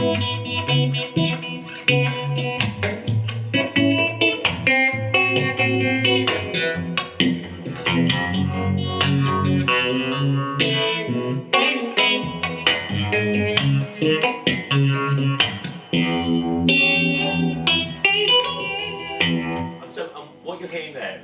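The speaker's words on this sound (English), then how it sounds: "So what we got next is an Aqua Vibe. So this is the Aqua Vibe." Electric guitar played through an Aqua Vibe univibe-style effect pedal, chords and melodic lines swirling with a watery, phasey throb, loud and continuous with no talking.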